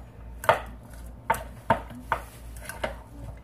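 Bacon and cheddar cheese filling is mixed in a bowl, with about six sharp knocks of a utensil against the bowl at uneven intervals over a soft background.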